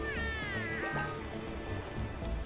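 A cat Roomba in the video game A Hat in Time gives a few rising, sing-song meows over a steady bed of game sound and music.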